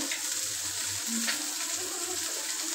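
Spice paste sautéing in a pan for a curry, a steady broadband sizzle with occasional stirring scrapes, close and continuous with no talking.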